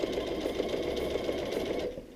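A sewing machine stitches a background fabric square to a star fabric square for a patchwork quilt block, running in a steady, close, continuous whirr with no talk, then slowing and easing off at the very end.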